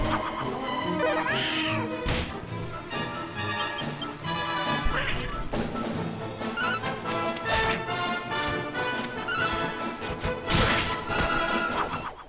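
Candy cat monsters meow in a battle in Dragon Quest VIII on the 3DS, with several high mewing calls over busy game music and hit effects.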